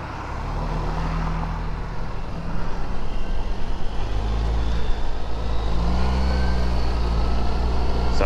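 A 2008 Suzuki Burgman 650 scooter engine rumbles at low speed with a snatchy throttle, a low steady drone that swells unevenly in pulses over wind noise.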